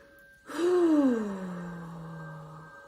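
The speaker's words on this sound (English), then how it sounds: "let's take 3 deep breaths in and out." A deep, slow breath drawn in and let out during a guided relaxation, heard as one close, voiced sigh-like exhale that gradually trails off, with no talking.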